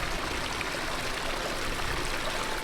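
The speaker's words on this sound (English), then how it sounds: "It looks like there's now a creek where the trail used to be." Creek water flowing over a washed-out trail in a Death Valley canyon, a steady close rushing babble filling the whole moment with no voices.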